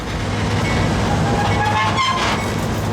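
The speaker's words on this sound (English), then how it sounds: "The White Pass and Yukon train back down from the mountains once more drops us off" A White Pass and Yukon mountain railway train in Alaska rumbles loudly and continuously close by, with a brief horn-like tone rising over the steady rolling noise.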